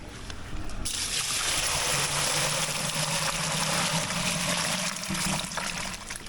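Water gushes steadily into a container used for transporting live carp, a loud continuous pouring rush lasting several seconds, heard close up and outdoors.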